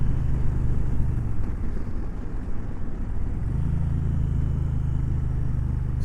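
Engine of a 2020 Indian Challenger Darkhorse motorcycle pulling hard on a freeway, a steady deep rumble with rising pitch toward the end, loud and close over continuous wind roar.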